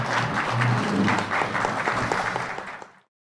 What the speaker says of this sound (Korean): 세 분께 다시 한번 큰 박수 드리면서